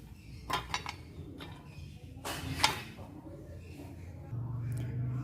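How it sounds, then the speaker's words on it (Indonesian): Small twigs and pieces of wood dropped into a tin can outdoors, giving a few scattered clinks and rattles, one louder clatter midway, with low background noise throughout. "kita memasukkan kayu atau ranting-ranting kecil ke kaleng"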